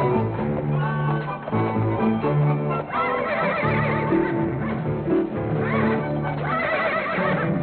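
Horses whinny repeatedly, loud and close, shrill drawn-out neighs one after another with faint hoof clops beneath.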